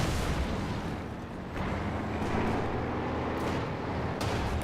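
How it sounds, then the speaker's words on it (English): A pinning strafing run hits during a Company of Heroes 2 battle, a dense, continuous rumble of rapid gunfire and blasts with sharper bursts cutting through, loud and unbroken from start to finish, no talking. "in comes the pinning strafing run"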